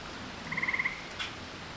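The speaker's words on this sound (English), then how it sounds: "Do you hear the frogs?" A single frog gives a quick rattling run of croaks, about eight pulses, faint over a soft rainy background hiss during rain, followed by a brief chirp.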